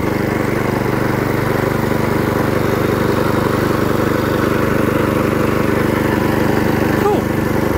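A Hayter 21 Osprey roughcut orchard mower with a 5HP Briggs engine and a new fuel pump runs steadily, loud and close, its continuous buzzing drone unbroken throughout, with a voice talking over it.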